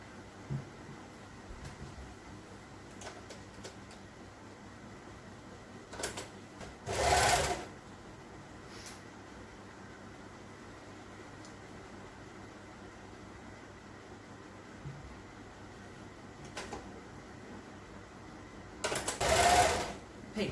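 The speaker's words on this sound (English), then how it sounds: "place the side seams together, the right side's facing, and just sew or serge down that short side" A sewing machine or serger runs two short bursts along the side seams of knickers, each about a second long, over quiet room hum with long pauses between, and a voice speaks faintly at times.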